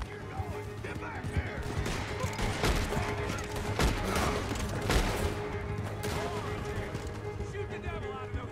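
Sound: gunfire in a Western video game

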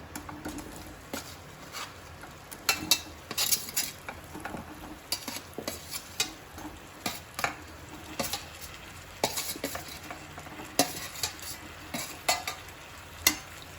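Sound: mixing cut peaches with spices for peach pickle

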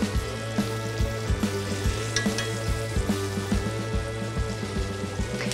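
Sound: meat searing in a pan

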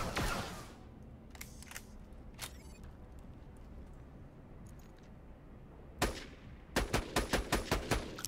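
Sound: automatic sniper rifle gunfire, Borderlands: The Pre-Sequel video game

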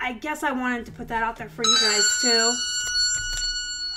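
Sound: loud phone ringing

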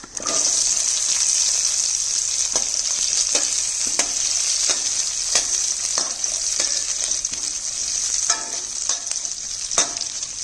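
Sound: onions frying and being stirred in a pan

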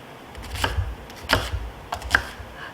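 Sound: knife chopping vegetables such as onion and carrot

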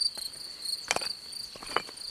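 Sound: crickets chirping

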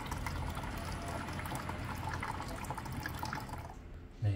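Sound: water dispensing from LG water purifier

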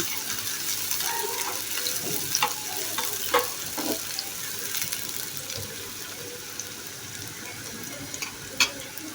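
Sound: chopped onion being stirred and fried in oil

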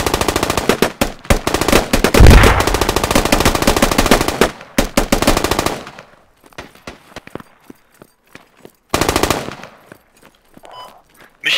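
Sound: machine gun covering fire in the video game Squad

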